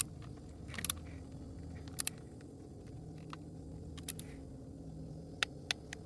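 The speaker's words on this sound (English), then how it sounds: "That was a click indicating that I reached to 30 foot-pounds" Torque wrench set to 30 foot-pounds tightening a half-inch mechanical bolt, giving a few faint, sharp clicks scattered over a low, steady background hum.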